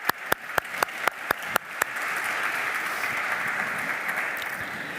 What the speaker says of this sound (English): I would like to welcome you by a round of applause